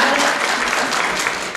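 An audience applauds a guest at a samba and human-rights discussion event, dense steady clapping filling the room for the whole stretch with no voices over it.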